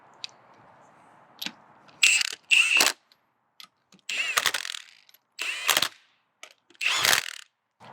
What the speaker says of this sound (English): Then we'll just run these down very lightly with the impact